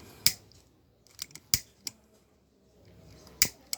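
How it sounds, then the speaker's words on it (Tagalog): A handheld lighter clicks sharply several times, crisp isolated snaps spaced irregularly and close to the ear, with faint rustle between them and no talking. "Ganyan ang tunog ng lighter kapag sila ay maninigarilyo."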